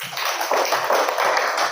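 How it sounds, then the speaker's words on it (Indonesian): A roomful of teachers at a district gathering in Bulok claps in unison, producing a continuous, fairly loud patter of many hands with faint rhythmic surges and no pause. "Tepuk 5 kali."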